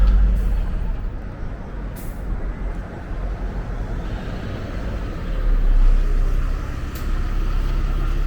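A London route 129 bus pulls in at stop C, a low engine rumble rising under steady roadway traffic noise with brief hissing bursts like air brakes.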